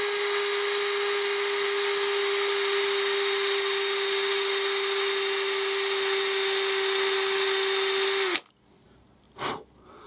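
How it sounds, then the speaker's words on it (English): A power sanding arbor with 180-grit abrasive works a wet-turned bowl on a lathe, giving a loud steady high whine for about eight seconds, then it cuts off abruptly and a brief faint whoosh follows. "Now I've got power sanding arbor, 180 grit."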